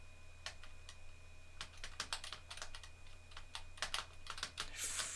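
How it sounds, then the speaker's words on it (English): Keys clatter on a Star Trek ThinkPad laptop keyboard in quick, uneven bursts of close, crisp taps that feel chunky and mechanical, over a low steady electrical hum. "Keys feel very meaty and have a nice feel to them. Feels like a mechanical keyboard."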